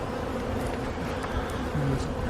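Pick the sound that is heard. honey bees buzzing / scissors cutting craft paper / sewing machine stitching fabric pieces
honey bees buzzing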